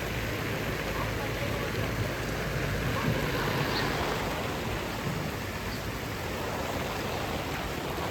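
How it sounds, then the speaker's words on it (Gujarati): Steady rain falls in Babra near a Swaminarayan temple, a dense, even hiss of drops on surfaces holding constant loudness throughout with no clear breaks. "અત્યારે બાબરાની અંદર આંબલી ધારે વરસાદ જો ચાલુ થયો છે"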